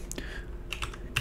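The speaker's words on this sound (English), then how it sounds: "I could come up here and I could type in" A few quick keystrokes on a computer keyboard, close and fairly quiet clicks in a short burst, no talking.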